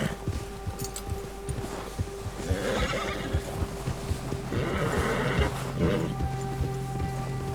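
A horse whinnies loudly over a rhythmic clatter of hooves, with rumbling background noise and a second shrill neigh later on, in the video game Red Dead Redemption 2.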